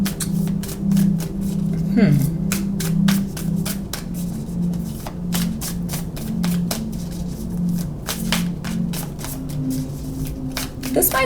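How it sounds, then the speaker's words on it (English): Tarot cards shuffled by hand in quick, repeated riffling bursts that run steadily throughout, close and fairly loud, with a low steady hum beneath and no talking. "Let's shuffle out some tarot for you."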